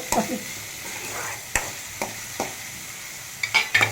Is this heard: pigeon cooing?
no